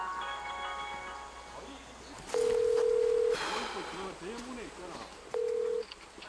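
Telephone dialing tones and a ringback tone on a call to check on a flood-affected resident, heard as two long steady tones with bursts of keypad beeps between them, close and clear, with faint background voices.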